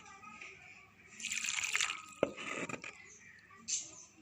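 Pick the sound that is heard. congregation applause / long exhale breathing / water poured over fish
water poured over fish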